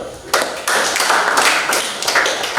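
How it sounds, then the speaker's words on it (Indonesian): Classroom of students clapping hands together at a teacher's prompt, a brisk burst of close, loud clapping that starts abruptly and carries on for about two seconds. "Tepuk tangan dulu."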